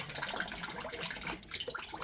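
Tap water runs through a Philips AWP3704 on-tap water filter at low pressure, a steady close hiss and trickle that continues without pause for the whole stretch.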